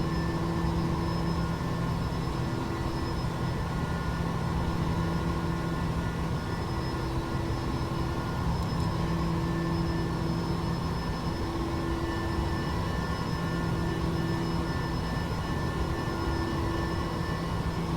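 Steady, loud drone of a freeware helicopter's engine and rotors in the X-Plane 11 flight simulator, a continuous hum with tonal whine that stays constant throughout.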